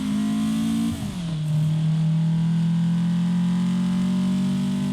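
A Toyota AE86 with a 1.6 engine in an Assetto Corsa mod hums at steady revs, dipping briefly as the gear changes, then holding a loud, even drone, close and alone.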